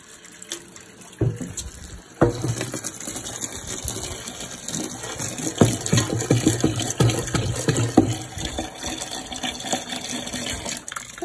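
Warm water pours into a horse's feed bin to soak hay pellets, a steady rushing fill with splashing and occasional knocks, close by and continuous.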